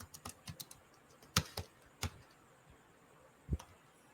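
Irregular keystrokes on a computer keyboard as a Python statement is written, quiet and close, with sparse clicks, a couple of harder taps and gaps between them, no voices.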